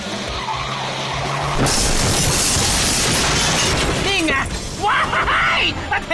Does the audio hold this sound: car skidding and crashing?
yes